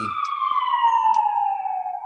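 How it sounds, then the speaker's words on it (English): A loud siren wails steadily with a slowly falling pitch as it passes close by. "as I get sirens going by"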